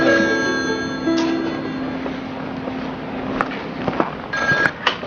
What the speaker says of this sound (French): Ah, mon téléphone, c'est pour moi.